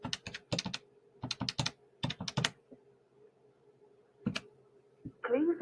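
Series of soft plastic key presses as a number is dialed on a Grandstream IP phone keypad connected to a UCM6300 PBX, tapped in quick clusters with short pauses, close and quiet.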